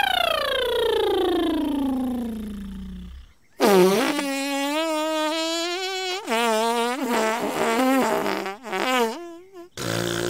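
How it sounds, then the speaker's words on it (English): A lip buzz vocal exercise, lips vibrating together in a buzzing tone that first slides downward, then holds a steadier wavering pitch in several bursts separated by brief pauses, close and loud in an animated musical. "Simply vibrate your lips together without worrying about pitch."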